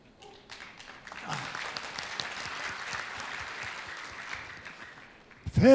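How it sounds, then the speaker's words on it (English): An audience at a Rotary district training seminar applauds as a past district governor comes onto the stage. The clapping swells after a quiet start, holds steady, and ends with a sudden loud burst of noise. "a big round of applause and welcome Past District Governor William Zhang on the stage"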